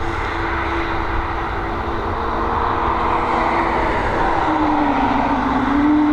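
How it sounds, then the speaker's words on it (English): A Swiss Airbus A220 airliner at Dublin Airport gives a loud, steady jet engine roar with a rising whine, close and continuous with no talk over it. "She's an Airbus A220 heading over to Zurich."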